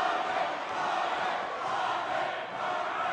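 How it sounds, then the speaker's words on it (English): Crowd at an Armed Forces boxing match roars and cheers steadily throughout, a dense wash of voices from a large audience without pauses. "And you can hear him cheering"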